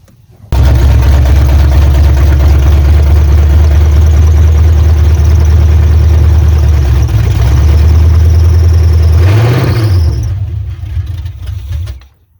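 A 1986 Chevrolet Silverado V8 with a new Quadrajet carburetor fires up and runs loud and close with a steady rough idle, surges briefly near the end, then dies away.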